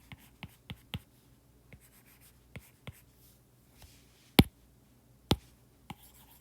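Marker or chalk writing on a lecture board as a physics equation is rewritten. Scattered sharp taps and short strokes come at uneven intervals, with two louder clacks near the end, close by and with no talking.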